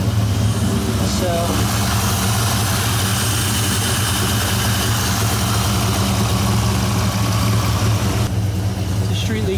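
A 1997 Dodge Viper idles through its warm-up, a steady low engine rumble that holds evenly for the whole stretch with no revving.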